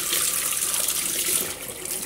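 Australian tap water pours steadily into a sink under a faucet, a constant close splashing hiss with no talk over it.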